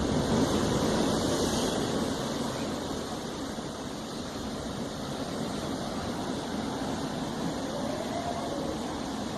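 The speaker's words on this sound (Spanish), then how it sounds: "El mar de fondo." Sea surf in the background, a continuous broad rushing wash with slow swells, steady and moderately loud with no talk.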